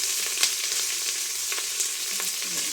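Chopped onions sizzle in a frying pan for ghee rice, a steady close hiss broken by a few light clicks of stirring, with no voices.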